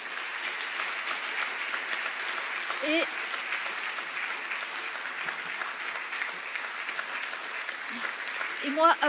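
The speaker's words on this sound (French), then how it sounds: "Pouvez-vous, s'il vous plaît, applaudir nos panélistes comme il se doit?" An audience applauds the panelists at the close of a conference session. Dense, continuous clapping runs throughout, with a few voices speaking briefly over it.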